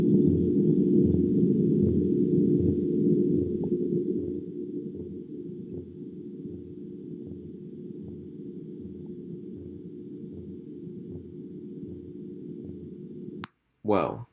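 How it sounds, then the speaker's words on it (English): Very low blue whale song: a deep, steady drone with slow pulsing repeating through most of the clip, loud and alone, then cutting off into a brief burst near the end. "Let's give it a listen."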